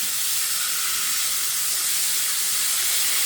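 Fish fries in a pan, giving a steady, even sizzling hiss throughout with no voices over it.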